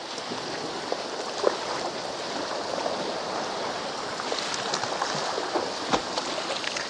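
Sea waves wash and splash against a rocky shore at a small bay on the Anapa coast in winter, a continuous broadband surge with occasional sharper slaps, close by and steady.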